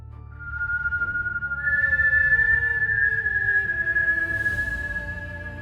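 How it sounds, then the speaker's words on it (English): A thin, sustained whistle holds a single high tone for several seconds, softly wavering, with a faint low rumble underneath. "A whistle. Soft at first, almost human, like someone trying to catch our attention from far away."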